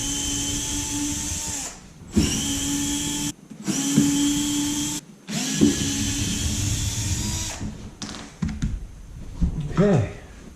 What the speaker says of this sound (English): first thing I'm going to need is a drill so that I can go ahead and remove